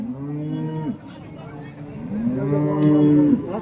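Khillar bulls at a busy village cattle market give two long, deep moos close by, the second louder and more drawn out, over faint crowd background.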